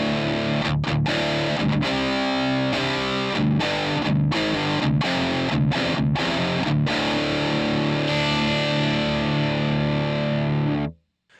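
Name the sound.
electric guitar amp tone with light drive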